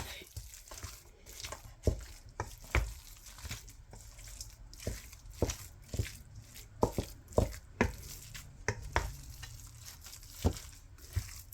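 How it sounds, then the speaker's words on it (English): Ground beef seasoned with paprika, black pepper, salt and garlic is stirred in a pan, giving faint frying sizzle under repeated scraping and knocking strokes at an uneven pace. "Trying to stir this up real good"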